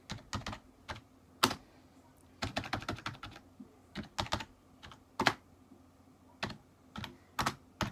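Computer keyboard typed slowly with one finger: scattered single key taps and a few quicker bursts of clicks, close and clear, with no talking.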